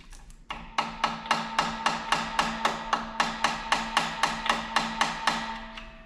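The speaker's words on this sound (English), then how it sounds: "let's get a hammer. Just a small little hammer, and pop the side of this." A small hammer raps the side of a part on a blown-up 5.3L V8 engine from a Suburban teardown: about eighteen evenly spaced, sharp metallic taps at a steady rhythm, close and clear.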